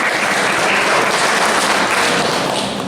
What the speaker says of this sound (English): I'll tell you to clap your hands for yourselves